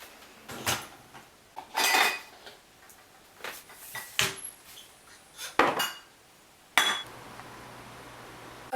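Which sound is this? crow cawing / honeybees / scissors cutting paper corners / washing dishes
washing dishes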